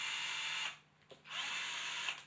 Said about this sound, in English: You're going to want to drill holes into the side of the box